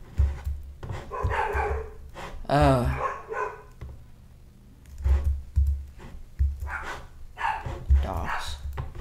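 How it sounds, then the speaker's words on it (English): Several dogs barking in Minecraft, short yips and bow-wows in scattered bursts, fairly close, with a brief chirpy game sound and a voice speaking in between. "Dogs."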